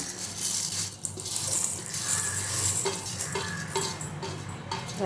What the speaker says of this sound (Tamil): இப்போ வறுத்து வச்சுருக்கத மிக்ஸி ஜாரில் மாற்றிப்போம்.